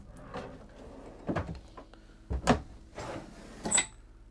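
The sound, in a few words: deep drawers in a motorhome opening and closing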